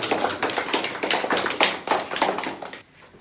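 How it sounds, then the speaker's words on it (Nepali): Audience clapping at a political gathering in Nepal, dense and steady for about three seconds before stopping abruptly, with no talk over it. "उहाँहरू सबैलाई एकपटक ताली बजाएर"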